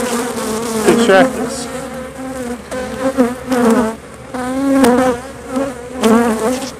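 Honey bees buzz loudly and steadily around honey super frames during a harvest, a dense close droning swarm that swells and dips while a voice briefly speaks over it.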